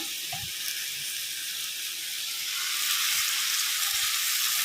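Drumstick leaves sizzle steadily in a pan for a Tamil murungai keerai thuvaiyal, a broad hiss that swells slightly toward the end, with a few faint stirring knocks and no speech.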